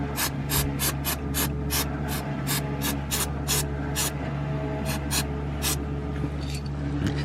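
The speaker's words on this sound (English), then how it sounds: "So now what I'll do is I'll spray it with some of this" Short hissing bursts from a spray can applying treatment to a Subaru Impreza STI rear subframe, repeated in a quick irregular rhythm over a steady low hum, close and loud.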